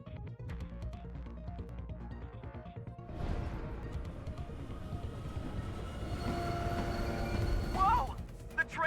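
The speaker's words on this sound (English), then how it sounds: "The train is moving!" A train in a video game lurches into motion, its heavy metallic rumble and clanking building steadily from a lower groan into a dense, rising rattle, with music-like tones and voices sounding over it.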